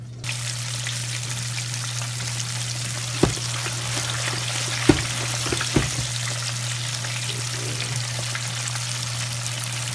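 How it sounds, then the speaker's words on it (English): Steady, continuous sizzling of chicken frying in hot oil, with an occasional soft knock or clink and a low hum underneath. "And we're frying chicken from Kentucky."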